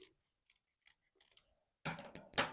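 Scissors cut paper into labels: faint scattered clicks of the blades, then two louder, crisp snips at the end.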